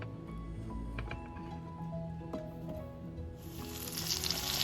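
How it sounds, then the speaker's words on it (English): Battered food goes into a deep fryer, and a soft sizzling hiss of hot oil builds up and then swells into a loud, bubbling crackle toward the end, with no voices. "I'm gonna let this fry for about 4 to 5 minutes"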